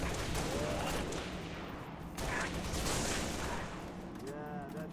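Dense continuous gunfire and crackling combat noise in the Halo video game, a busy, loud wash of shots with a voice briefly heard over it.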